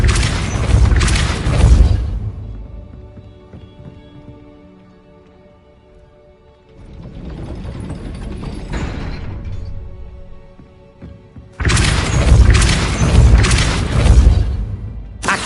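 Depulso spell cast in Hogwarts Legacy: heavy booming bursts of magic, a loud rumbling blast at the start, a softer swell midway and another strong blast near the end, with sustained musical tones between.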